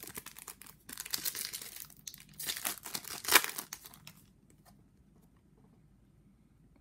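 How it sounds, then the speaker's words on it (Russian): A foil packet of Panini FIFA 365 Adrenalyn XL football cards crinkles and tears open in close, irregular bursts, then falls quiet. "Вскроем еще один пакетик."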